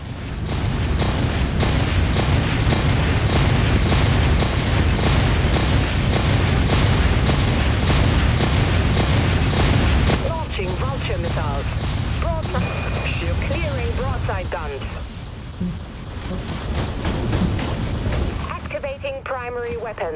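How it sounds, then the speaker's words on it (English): Rapid autogun fire in the Dreadnought space-combat game, a dense, loud rhythmic stream of shots for about ten seconds, then heavier booms and scattered explosions with voices talking underneath. "Shield activated. Autoguns fired up."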